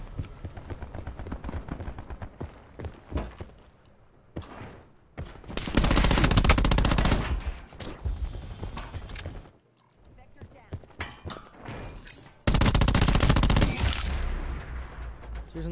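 Black Ops 4 Hardpoint match with pistol gunfire: two loud, dense bursts of shots dominate the middle and end, separated by quieter stretches of game sounds and voice callouts.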